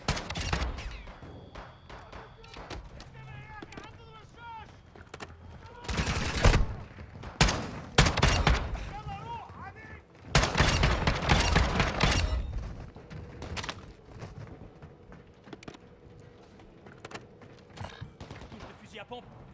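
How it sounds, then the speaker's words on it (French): Shotgun fire in the video game DMZ: a string of loud, booming blasts in irregular bursts, alternating with quieter game ambience, alongside talking. "Fusil à pompe."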